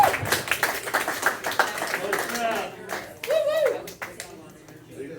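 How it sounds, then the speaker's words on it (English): A stand-up comedy audience claps to welcome a comedian on stage, a loose patter of close claps with some voices over the top, then a brief voiced cheer near the end. "please show some love, clap your hands, let him hear it"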